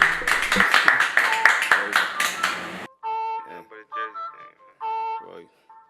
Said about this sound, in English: give it up for him. Clap for him.